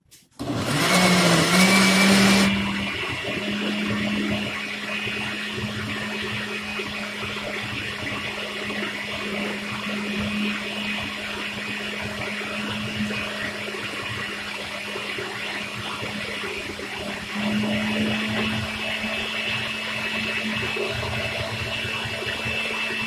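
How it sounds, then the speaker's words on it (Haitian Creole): A blender whirs steadily while mixing a Coca-Cola home remedy, loud and close, with a sharp high-speed burst at the start before it settles into a long, even motor drone that rises slightly in pitch near the end. "Nous va le blender."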